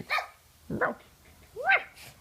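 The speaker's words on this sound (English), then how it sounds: "By the way, her bark is like that." Debarked dog barking, three short, hoarse, raspy bursts spaced about half a second apart, close and fairly quiet, with no talking.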